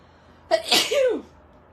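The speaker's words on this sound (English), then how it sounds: "I'm going to sneeze again" A single loud human sneeze up close, a sharp burst followed by a short voiced trailing release, alone against a quiet background.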